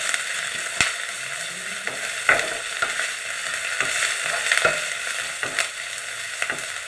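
Ginger garlic paste sautéing in a pan over cooked onions, a loud close sizzle with regular spatula scrapes and taps against the pan.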